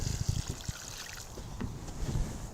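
Water under pressure spraying over a plant's root ball to wash the soil away, a steady hissing spray mixed with low splattering thumps and dribbles, close and moderately quiet.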